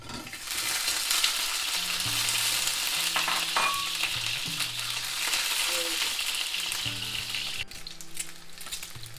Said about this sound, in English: I'm going to golden fry these eggs whole